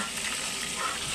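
Food frying in a pan makes a continuous close sizzle and crackle at a steady moderate level, with no talking.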